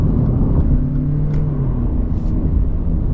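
Interior of a Lexus UX300h hybrid car accelerating, a loud, low muffled rumble and hum of engine and road noise that stays steady through the brief stretch, with no talking.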